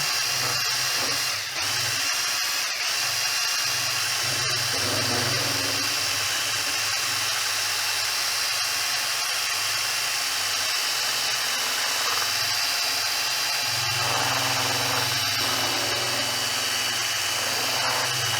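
A power drill with a mixing paddle churns countertop material, running continuously at a loud, steady whine with slight changes in load throughout, close by and without pause.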